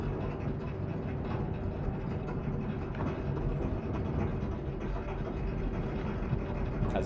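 A Vulcan train from a video game runs along its track, a steady mechanical rumble and rolling hum with faint clicks, continuous and even at moderate volume, no one speaking over it.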